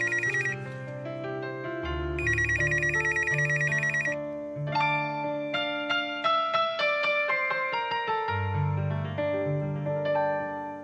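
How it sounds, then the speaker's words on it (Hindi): A telephone rings with a bright, melodic electronic ringtone that repeats steadily and fills the room on its own, with no voices over it. "मैं फोन सुन के आती हूँ"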